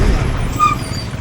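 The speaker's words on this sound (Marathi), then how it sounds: "हा बस आला माझ्या अंगावर येणार आहे." A bus comes head-on up a narrow single-lane mountain road, its engine a loud, close rumble with a short tonal note, heard from a motorcycle.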